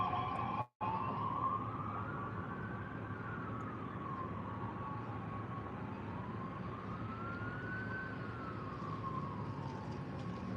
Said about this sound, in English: I hear more sirens. Hear it?